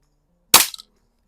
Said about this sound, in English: let's take a couple shots at the splatter burst for starters